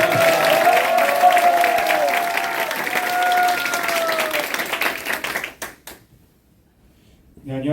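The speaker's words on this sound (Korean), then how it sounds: "큰 박수 부탁드립니다" A crowd applauds warmly at the launch of a political party's youth committee, with full clapping and some background voices that fade out near the end, leaving quiet before a voice begins.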